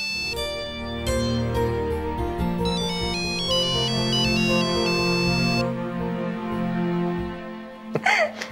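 A mobile phone ringtone plays a bright, repeating electronic melody for about eight seconds, loud and close with no talk over it, ending in a brief rustling clatter.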